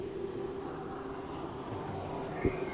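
XCAT racing catamaran powerboats pass during pole position at the UIM XCAT World Championship Alsharqiyah Grand Prix, their engines a steady, sustained drone with a low rumble, a faint whine and wind noise, ending in a brief thump.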